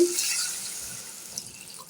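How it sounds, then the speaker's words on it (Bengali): Water is poured into a pot of curry that has been well fried with spices, giving a short steady splashing pour that fades over about two seconds. "তরকারি ভালো করে কষানো হয়ে গেছে এখন দিয়ে দিচ্ছি পানি"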